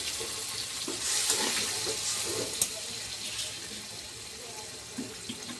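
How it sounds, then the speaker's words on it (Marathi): Water runs and splashes steadily into a cooking pan of eggplant curry, a soft continuous hiss with a few small clinks, moderately close. "आता याच्यात आपल्याला टाकायचं थोडं पाणी"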